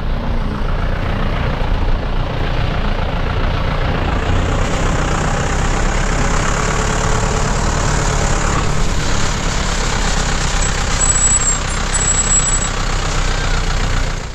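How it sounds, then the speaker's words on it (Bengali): Heavy engines and machinery rumble at a roadside construction site, a loud continuous low drone like idling trucks, steady throughout with no talk. "দেখো আর এখানে কনস্ট্রাকশনের কাজ চলছে।"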